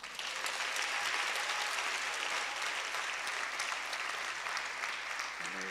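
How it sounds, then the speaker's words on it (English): A church congregation claps steadily for several seconds, a dense, even wash of applause from many hands, faint and without talk over it. "So let's clap our hands for Jesus."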